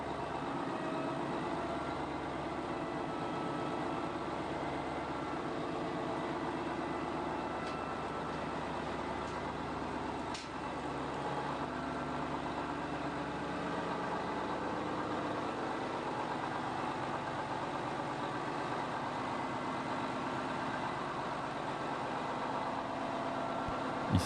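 A GM110 250-horsepower diesel engine on a barge idling steadily at close range, a continuous low rumble with a mechanical knock that stays even throughout, with no voices.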